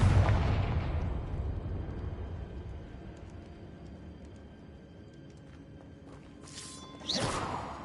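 A Confringo fire spell blasts in a Hogwarts video game: a loud booming burst at the start fades into a rumbling tail, and a sharp whooshing flare follows near the end.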